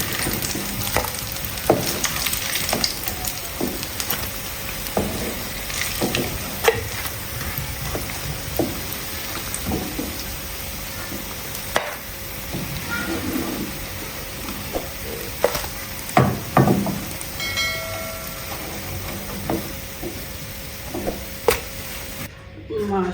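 Bread pakoras fry in oil over a low flame, a continuous dense sizzle and crackle with occasional spattering pops and utensil clinks, close and steady throughout.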